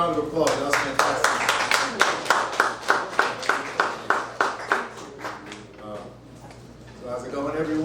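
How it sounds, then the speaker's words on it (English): An audience claps after a presentation at an IDEA event, with roughly twenty evenly spaced, crisp claps in a steady rhythm that fade out around the middle, followed by quieter room noise. "Another round of applause."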